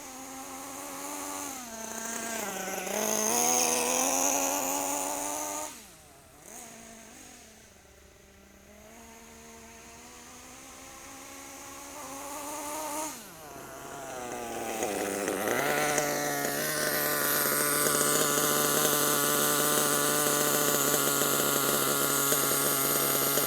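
Nitro engine of a Kyosho USA-1 RC monster truck warming up while smoking from the pipe, a loud buzzing whine that rises and falls with throttle blips, dips briefly, then settles into a sustained high drone, with no talk.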